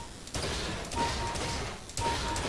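Rapid gunfire during aim practice on targets in the video game CS:GO, dense bursts of shots filling the clip with short gaps between volleys.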